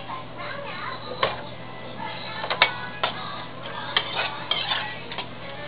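Spoon clinking and scraping in a pot as cooked dal is stirred into a vegetable kootu made with surakaai (bottle gourd), a series of close, light metallic taps and scrapes over a low steady hum.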